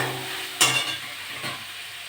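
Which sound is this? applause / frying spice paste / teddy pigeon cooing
frying spice paste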